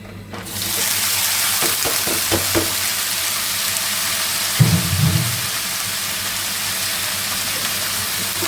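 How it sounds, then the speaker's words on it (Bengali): Pointed gourd and potato fry in oil over a wood fire, a steady loud hiss and sizzle throughout, with a few stirring knocks early on and a brief low rumble midway. "সবজি ভাজি করবো পটল আলু দিয়ে ভাজি"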